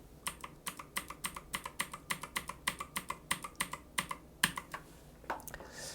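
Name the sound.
computer keyboard, pressing Ctrl+D repeatedly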